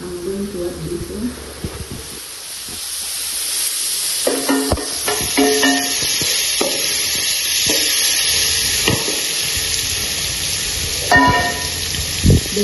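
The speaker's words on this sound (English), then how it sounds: "Onions and garlic fried with oil." Onions and garlic sizzle and crackle as they fry in oil for a Kenyan chips masala. The steady, close hiss runs throughout, with sharp clatters of stirring and utensils against the pan.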